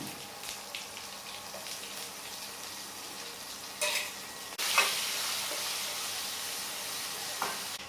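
Softened onions frying in a pan for an okra curry, with a quiet steady sizzle broken by a few scraping stirs and louder hissing bursts.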